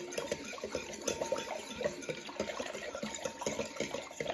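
Sourdough starter being stirred with water in a container, a wet, sloppy mixing sound with quick rhythmic scrapes and splashes, close and fairly quiet.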